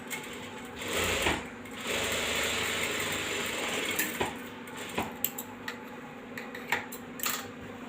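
A sewing machine stitches an embroidered blouse, with a couple of bursts of close motor whirring followed by scattered mechanical clicks and ticks as the fabric is handled.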